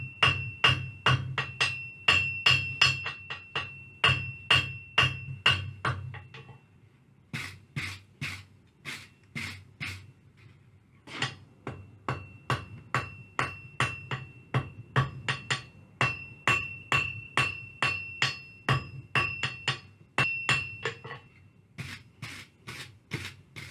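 Hammer forging 8mm steel round bar for a wheat sculpture, with steady rhythmic ringing blows in runs and brief pauses between them, loud and close.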